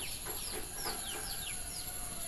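Backyard chickens at an old tiled-roof house in Kerala cluck and chatter in quick repeated calls, several birds close by over a constant background hiss.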